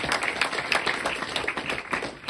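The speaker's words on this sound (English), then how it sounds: "let's go ahead and give them a round of applause" A small group at a high school soccer signing event gives a round of applause, with sparse, distinct hand claps in an uneven rhythm, close and moderately loud, rather than a dense roar.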